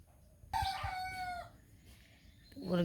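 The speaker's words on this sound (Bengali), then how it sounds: "মুরগিতে ডাকাডাকি শুরু করছি আবার" A rooster crows once, loud and drawn out, against quiet morning air, followed by the start of another call.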